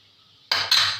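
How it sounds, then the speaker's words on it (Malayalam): A pressure cooker lid coming off after cooking aattukaal (goat trotter) soup: a quiet lead-in, then loud bursts of hissing steam mixed with metallic clatter, close by. "നമുക്ക് കുക്കർ തുറന്ന് നോക്കാം."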